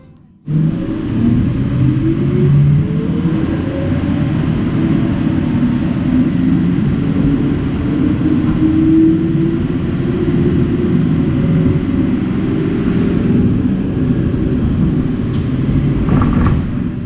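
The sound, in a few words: diesel-powered Siemens Combino Duo tram running in Nordhausen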